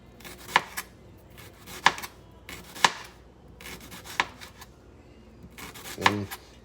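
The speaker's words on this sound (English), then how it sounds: "And then we're just going to slice down and go into thin slices there." A knife slices a halved onion into thin slices on a cutting board for a barbecue side dish, giving about half a dozen crisp, separate chops with quiet rustling between them.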